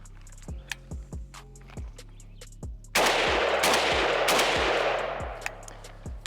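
Shots from a Krebs Custom M23 prototype AK-12 rifle ring out in a rapid, fairly even string of sharp, loud reports, with a burst of heavier noise midway that trails off near the end.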